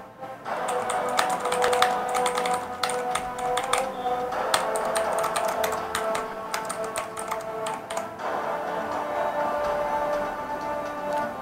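Rapid clicky keystrokes from a Zebronics ZEB-MAX Atom one-handed mechanical gaming keyboard with blue switches during gameplay, dense bursts of sharp taps with brief pauses, close and loud.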